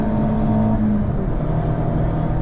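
A highly modified Vauxhall Corsa VXR with a forged engine pulls hard with a steady, loud engine drone under acceleration, heard close up without talk.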